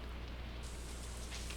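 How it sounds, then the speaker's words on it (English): Rain falling in a farming video game, a soft continuous patter like drops on a surface, faint and even throughout with no voices. "It's raining again."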